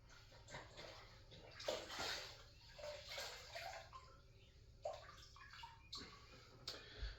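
Quiet water sloshing and dripping as a sponge is dunked and wrung out in a bucket while cleaning black tile grout, with soft splashes at irregular intervals.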